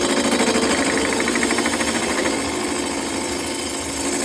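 Loud, continuous rattling machining cut inside an engine cylinder, the tool fed in faster, with a pulsing metallic chatter that holds steady for the whole stretch and no speech.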